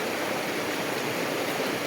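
Sungai Temula, a natural river in Kutai Barat, rushes with a steady, dense broadband wash of flowing water, close and continuous with no voices.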